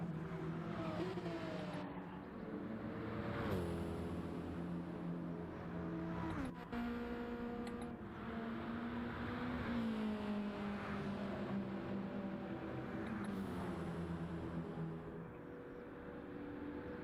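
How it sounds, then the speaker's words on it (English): Several Porsche race cars in a racing video game, engines droning and revving close by with rising and falling pitch as they battle for position, a continuous steady roar with occasional gear-shift drops and no talk. "Battle of the Porsches here."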